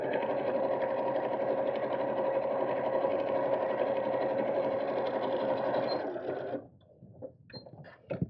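A sewing machine sews a fabric purse organiser in a continuous, even whirring run for about six seconds, then stops, followed by a few faint handling clicks and rustles.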